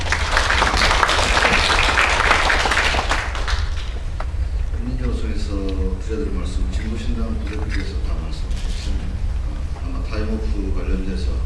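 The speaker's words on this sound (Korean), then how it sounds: "박수로 모시겠습니다" Audience applause welcoming the chair of the Korean Confederation of Trade Unions to speak at a forum on labor law reform, steady broadband clapping for about four seconds that fades into someone speaking.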